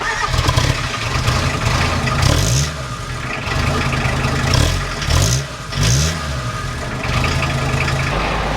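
A diesel van engine turns over and runs, a steady low rumble with a few revving swells and surges, loud and close with no talk over it.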